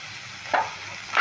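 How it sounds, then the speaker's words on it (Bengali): Sliced pointed gourd frying in a pan with turmeric and salt, a steady low sizzle broken by two brief louder stirring scrapes near the start and end, close by with no talking. "এবার সমস্ত উপকরণগুলো আমি ভালো করে ভেজে নেব।"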